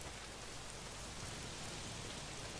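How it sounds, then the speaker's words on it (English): Heavy rain pours down in the video game Days Gone, a steady, dense hiss of water that stays constant with no breaks. "not if it's pissing down rain"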